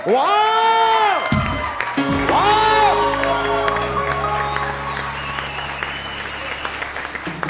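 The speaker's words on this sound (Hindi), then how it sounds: "बहुत सारी तालियों में डॉक्टर फारूक सत्तार" A TV studio audience on an Eid special show applauds and cheers a guest, loud clapping and whoops rising under swooping musical stings, with voices calling out over the din.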